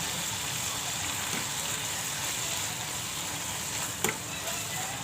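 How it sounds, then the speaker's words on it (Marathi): Loud, steady close frying hiss as an onion, garlic and ginger masala paste goes into a hot pan with fish, with one brief clatter near the end and no speech. "मी आत्ता ह्याच्यामध्ये वाटण टाकणार आहे. एवढं वाटण घालते."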